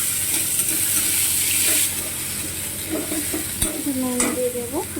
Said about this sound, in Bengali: হালকা হয়ে গেছে, পেঁয়াজটা দিয়ে দিচ্ছি।